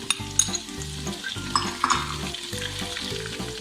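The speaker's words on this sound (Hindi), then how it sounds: "2 टेबल स्पून ऑयल को गरम कर लिया है। मैं इसमें प्याज ऐड कर दूँगी।" Onions sizzle and fry in two tablespoons of hot oil in a pan, a steady crackle close by, punctuated by sharp clinks and scrapes of a spoon stirring against the metal.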